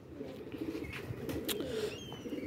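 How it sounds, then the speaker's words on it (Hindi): Soft, low cooing of a pigeon, close by and continuous, with a few brief faint chirps and rustles over a light background hum. "ये जोंसरा कबूतर आ गया"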